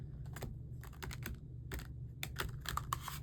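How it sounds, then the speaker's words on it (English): Large stiff tarot cards shuffled chaotically in quick clattering bursts, a run of sharp riffling flutters with short pauses between, close and fairly quiet with no talking. "Chaotic shuffling."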